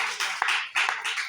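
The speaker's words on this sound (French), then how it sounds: "Applaudissez le Seigneur pour ta vie." A church congregation claps together during a worship service, a dense, steady patter of many hands with a few sharper accents, fairly close and sustained throughout.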